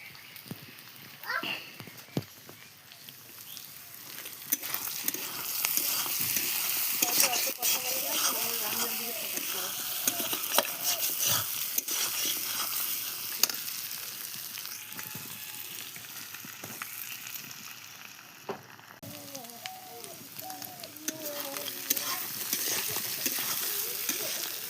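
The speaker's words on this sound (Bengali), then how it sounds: "কাঠের জালে রান্না হচ্ছে বন্ধুরা" Food cooks over a wood fire with a continuous crackling hiss and scattered sharp pops, while voices talk nearby at intervals.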